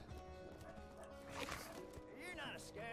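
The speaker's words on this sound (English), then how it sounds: "Yo, what are my dogs barking at, man?" Dogs bark in the Borderlands video game, with a few yips and barks scattered amid game ambience and faint effects, while someone talks over it.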